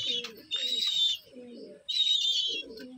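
A male pigeon, affected by twisted-neck disease, coos while pecking at food, with soft low coos interleaved with brief higher chirpy notes in a repeating pattern, close and fairly quiet.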